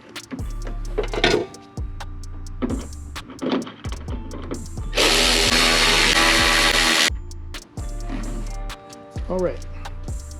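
A power drill drives Torx screws into a 2009 Chevrolet Silverado door latch in short whirring bursts with one longer sustained run, close up, among handling clicks and taps.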